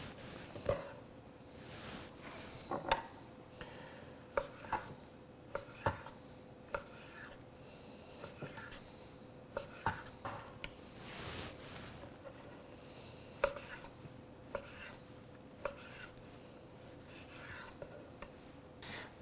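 A sharp knife slices calamari steaks thinly on a board, a quiet series of soft rhythmic cutting taps and scraping strokes, close and faint, with no one talking.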